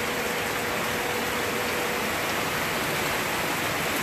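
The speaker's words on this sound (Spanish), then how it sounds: "Ahora empezó fuerte la lluvia" Heavy rain pours steadily during Hurricane Irma in western Puerto Rico, a dense, unbroken hiss with no wind gusts, loud and close throughout with no talking.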